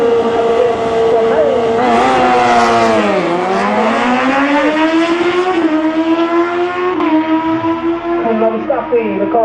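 Two drag cars, a Golf and an Opel, launch side by side at Tarlton Raceway. Loud engines rev hard with pitch sweeping up and down through the gears, while a commentator talks over the roar.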